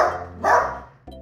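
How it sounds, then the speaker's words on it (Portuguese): A dog barks outdoors near a jabuticaba tree while another animal raids the fruit, two close, loud barks separated by a short pause, with no talk. "Ele não para de latir."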